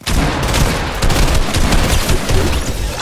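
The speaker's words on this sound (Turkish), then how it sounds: "Oh arkadan sıkıyor birisi." Dense, loud gunfire keeps going without a break in a Fortnite match, shots fired from behind the player. Sharp, overlapping blasts fill the whole stretch, close and harsh, with no talking over them.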